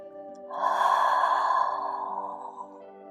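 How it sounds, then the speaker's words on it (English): One long, audible breath pushed out with a soft voiced ha during a calming yoga exercise, rising quickly and then slowly fading over a few seconds, close and alone. "Deep breath in, exhale with a ha sound."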